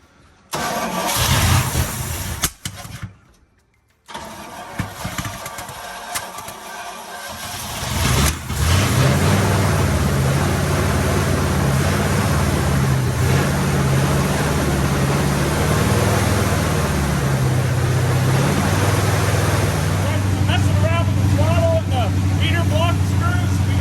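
A 1972 Chevy short box 4x4 truck engine, unrun for twenty years, cranks over, catches and settles into a steady loud idle close by, with someone talking briefly before it fires.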